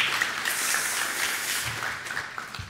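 A crowd applauds steadily after a conference talk, a dense wash of clapping throughout with a few sharper claps standing out.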